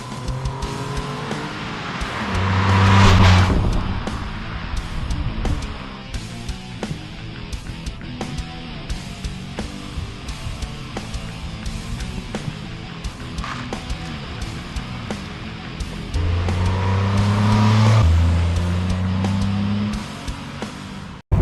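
A 2023 Hyundai HB20 Comfort on a test drive, with a steady engine and road drone throughout, louder acceleration surges near the start and end, and tire noise in between.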